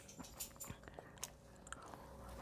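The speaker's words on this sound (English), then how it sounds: "Are you still gonna be chewing for a while?" Someone chewing a bite of a KFC donut chicken sandwich, with soft crunchy bites and wet mastication clicks close to the mic, irregular and intermittent over a low background hum.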